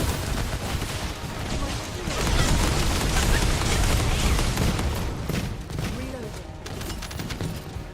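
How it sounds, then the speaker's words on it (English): Video game gunfire pours out in dense continuous volleys with booming explosions. The bursts are loud and sustained, and a voice talks over them. "I can't see what I'm shooting. I'm just firing into the fray."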